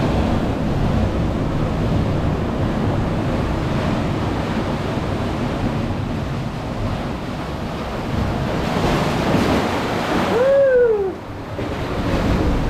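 Ocean waves wash in continuously at Sayulita beach in Mexico, a loud, dense roar of surf with wind buffeting the microphone, and a voice briefly whoops near the end.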